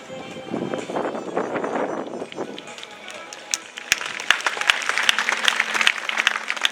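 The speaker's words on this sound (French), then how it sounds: "Vous avez raison de l'applaudir." Spectators applaud a dressage solo by horse and rider. A voice talks over the arena at first, then scattered, crisp claps build into steady applause in the second half.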